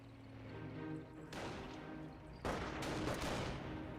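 Gunfire from German Panzer Grenadiers firing on a US rifleman squad in a Company of Heroes match, with bursts of distant rifle and machine-gun fire that swell into a louder barrage over a rumbling battlefield.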